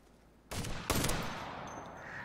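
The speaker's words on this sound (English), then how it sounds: "That was an RPG hit!" An RPG strike in the military shooter Operation Flashpoint: Red River bursts suddenly after a quiet lull, followed by a second sharp blast and a long rumbling, crackling tail of gunfire-like noise.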